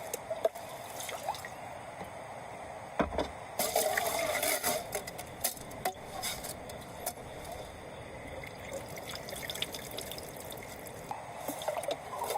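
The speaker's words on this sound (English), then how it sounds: "He fills the reservoir to its brim, securing his independence from the distant stream for the days ahead." Water filling a reservoir at an off-grid bamboo shelter in the wild, soft trickling and dripping with occasional louder splashes and bursts of pouring, fairly quiet and close.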